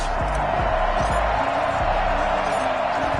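A steady stadium crowd roars in Madden 21 before a Seattle Seahawks versus New York Giants matchup at MetLife Stadium. The broad wash of cheering noise holds at an even level throughout, with faint low tones beneath.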